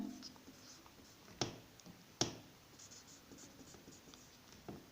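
Chalk or marker scratching across a board while matrix rows and columns are written out for a maths lesson, with a few sharp taps and short strokes, quiet and close, no voice.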